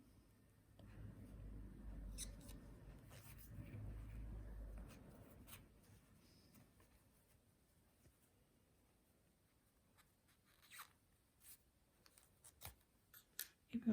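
Scissors snip knitting yarn while making baby booties, several small, quiet clicks and crisp cuts near the end following a stretch of soft handling noise, close up and with no talk.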